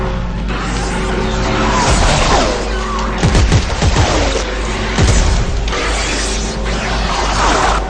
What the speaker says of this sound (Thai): ยิงระเบิดทีนึง